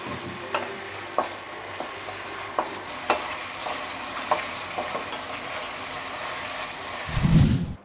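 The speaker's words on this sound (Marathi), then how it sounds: "ही टोमॅटो आहेत ना ती घालूया. आता ही सुद्धा आपल्याला कांद्यामध्ये चांगली शिजून घ्यायची आहे" Tomatoes frying with softened onions in a pan for spicy mutton sukka, a steady sizzle broken by sharp scraping stirs every second or so, then a louder bubbling burst near the end.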